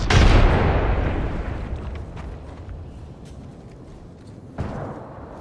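Gunfire and missiles in a video game battle, one loud close blast that rolls off into a fading rumble, then a second sharp report near the end, with no talk over it.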